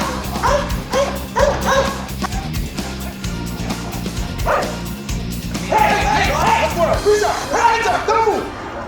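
A protection K9 barks repeatedly in loud, rhythmic bursts with some whimpering yips, close by, over music and someone talking.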